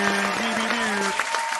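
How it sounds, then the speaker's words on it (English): Audience applause on a radio broadcast, a dense crackle of clapping running under sustained tones and a voice, fairly loud and brief. "a round of applause"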